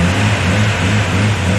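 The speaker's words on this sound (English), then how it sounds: "So as soon as I give it throttle, it just dies." A Nissan R31 Skyline engine with a fault that makes it stall on throttle runs loud and close in a brief, steady mid-pitched drone.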